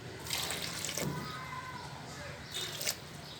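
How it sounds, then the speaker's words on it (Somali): Water poured into a grinder with coconut, a couple of short splashing pours standing out over a quiet background, with light talk nearby. "waxyaar biyaan ku soo daraa"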